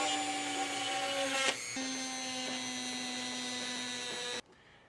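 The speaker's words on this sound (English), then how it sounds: "Oh wait, I found the Dremel." A Dremel rotary tool whines steadily at high pitch while working on a flickering light prop, with a brief dip in speed partway through before it cuts off abruptly.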